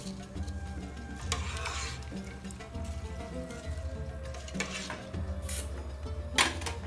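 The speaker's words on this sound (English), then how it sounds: "Add the drained rice and mix well." A spoon scrapes and stirs drained basmati rice through a pressure cooker pot in repeated strokes, with soft clinks of metal over a low steady kitchen hum.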